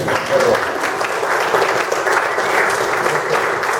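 Church congregation applauding during a sermon, a steady broadband wash of many hands clapping that holds evenly for several seconds without pause.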